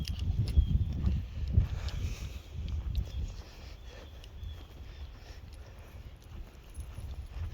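Horses moving nearby, with low thuds and shuffling hoof sounds over a steady outdoor rumble, no voices.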